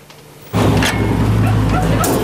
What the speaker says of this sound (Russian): О, собачка.